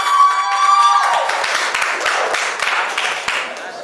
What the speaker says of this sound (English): can we have a round of applause for both contestants?